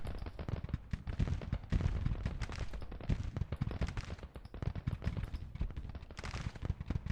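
Massed gunfire from Civil War era rifles and artillery in the strategy game Grand Tactician, a dense continuous crackle of overlapping shots, steady and sustained, heard at a distance.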